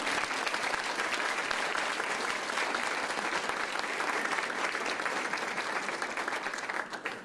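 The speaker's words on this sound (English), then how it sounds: "so give them a round of applause" Sustained audience applause at a university funding announcement, a dense, even roar of clapping that holds steady and begins to fade at the very end.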